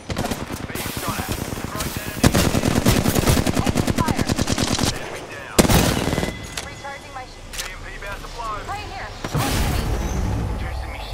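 Rapid video-game machine-gun bursts and heavy gunfire with booming impacts, loud and near, continuing in waves across the clip while a voice talks over the action.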